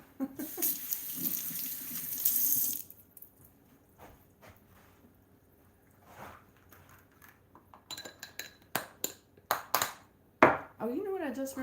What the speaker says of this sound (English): And then we'll get some cherries rinsed off.